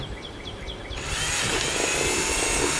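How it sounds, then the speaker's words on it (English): A power drill bores a pilot hole through a plastic bucket for a crawfish trap, its steady high whine starting abruptly after a moment of quiet and holding close and loud. "Make me a pilot hole for my saw."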